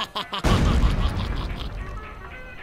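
A grenade detonates in the cartoon artillery game Worms Ultimate Mayhem as a sudden heavy boom after a few clicks, followed by a long rumbling decay.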